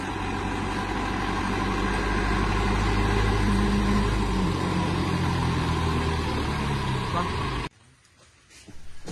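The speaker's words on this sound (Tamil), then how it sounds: "வண்டி வந்துருச்சு. இப்போ நம்ம தோட்டத்துல இருந்து பேக் எல்லாம் எடுக்கிறதுக்கு வருது வண்டி." A goods vehicle arrives at a farm to collect bags, its engine rumbling loudly and steadily with shifting pitch before cutting off abruptly near the end, leaving quiet, then faint stirring.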